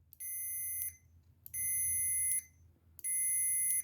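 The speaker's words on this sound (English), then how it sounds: "And we'll listen for a beep." A multimeter gives continuity-test beeps while its probes check a switch through a connector: three loud, sustained electronic tones, each about three quarters of a second long, with short gaps between them.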